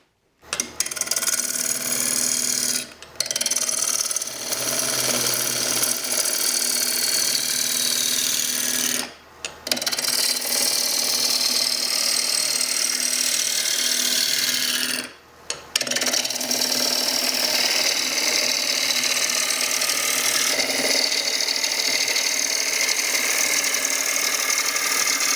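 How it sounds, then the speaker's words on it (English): Wood lathe spinning a wooden bowl blank held against a live center, a steady whirring motor hum with cutting rasp, broken by three brief stops, near and loud with no talk. "Always stop the lathe when you move the tool rest."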